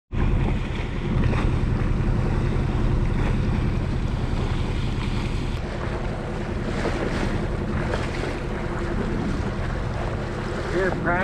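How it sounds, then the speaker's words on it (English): A sailboat motors along at sea far from land, with a constant low engine drone mixed with heavy wind buffeting the microphone and the wash of waves, steady and close throughout. "we still have our motor going"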